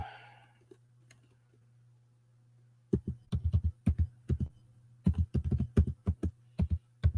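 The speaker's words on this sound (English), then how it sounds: "I'm just typing in." Bursts of clicky keystrokes typed on a computer keyboard, coming in quick clusters after a quiet start, close and fairly loud over a steady low hum.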